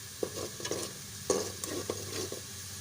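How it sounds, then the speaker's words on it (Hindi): Onions browning in a pot for a potato and carrot curry sizzle softly while a spoon stirs them, giving a few scraping strokes and clanks over a low steady frying hiss, close up. "ये देखिए, हमारा प्याज जो है वो ब्राउन हो रहा है।"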